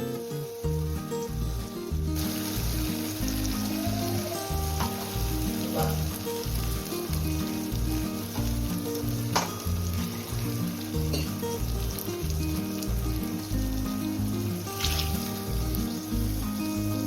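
Ground masala for a fish curry fries in a pan with softened tomatoes, giving a steady close sizzle and crackle throughout, with faint bubbling and occasional small clicks.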